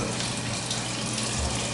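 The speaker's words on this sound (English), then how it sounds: "Let's check the hot water here. Turn it to hot. You can see it runs very well." Hot water runs steadily from a sink faucet in an apartment kitchen, a continuous close rushing stream with no talk over it.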